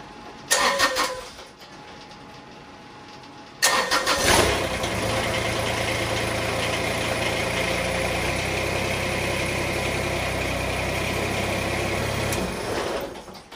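Kubota BX compact tractor engine cranking briefly, pausing, then starting and settling into a steady idle that runs close and loud until it cuts near the end; no talk.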